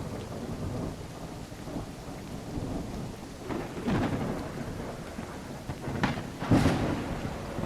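Steady rain pours with low rumbling thunder and a couple of sharp lightning cracks in a video game storm, dense and close throughout, with no voices.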